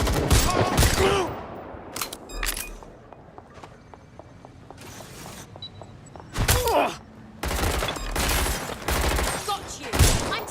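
Bursts of gunfire in the video game Watch Dogs Legion, loud volleys clustered near the start and again toward the end, separated by quieter stretches with footsteps and faint background sounds.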